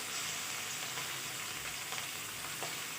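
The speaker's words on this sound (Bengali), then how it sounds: "মাছটা লবণ হলুদ মেখে ভাজা বসিয়ে দিলাম" Rohu fish rubbed with salt and turmeric sizzles in hot mustard oil, a steady close hissing fry with no talk.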